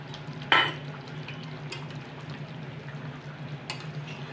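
A curry stirred in a pan right after ground garam masala is added, with one sharp scrape near the start and soft scraping and faint sizzle continuing over a steady low hum.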